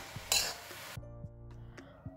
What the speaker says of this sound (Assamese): আৰু এইদৰে আমি কিছু সময় এনেদৰে ভাজি থাকিব লাগিব।